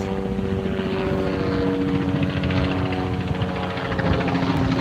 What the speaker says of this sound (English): And helicopters.